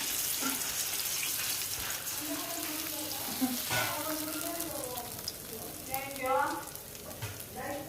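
Handvo batter of semolina sizzles in a hot oiled pan, a steady close frying hiss that runs throughout while someone talks quietly over it.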